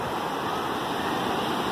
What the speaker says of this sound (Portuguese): São umas ondas gostosas de brincar